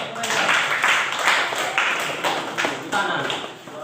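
A class of students gives a short round of clapping after a group presentation in a lesson, a brisk burst of many hands lasting a few seconds and fading at the end.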